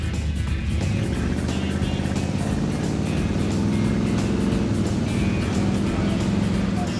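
A junkyard-rescued Chevy Tri-Five car engine runs steadily on a hot day, a loud, close, continuous low rumble that holds without a break for the whole stretch.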